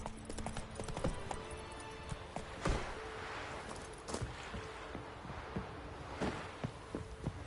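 Roach the horse gallops in The Witcher 3, a video game, with steady rhythmic hoofbeats throughout, fairly quiet, punctuated by a few louder thumps.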